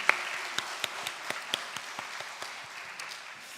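Light, scattered applause from a small church congregation at a Sunday service, individual claps audible against a soft room background, tapering slightly toward the end.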